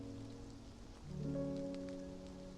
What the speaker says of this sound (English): The sound of rain becomes the perfect companion to the song.